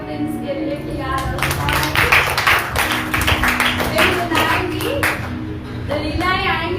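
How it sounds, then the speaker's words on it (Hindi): Congregation clapping loudly at a Sunday church service, a dense sustained wash of applause under a preacher's voice talking through it. "जोरदार तालियां"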